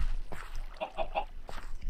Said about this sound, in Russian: Что-то, мне кажется, слишком много куриц уже.